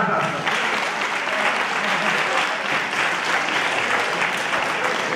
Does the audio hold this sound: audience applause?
yes